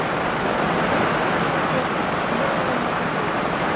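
Heavy rain pours steadily and loudly on a remote mountaintop, a dense, unbroken hiss with no pauses from start to finish.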